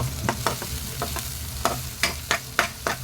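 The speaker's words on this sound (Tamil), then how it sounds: "வெங்காயத்தை நல்லா வதக்கிக்கலாங்க" Chopped onions sautéing in a pan for a mutton liver pepper fry, with a steady low sizzle broken by a series of sharp spatula scrapes and stirs, close and clear with no talking.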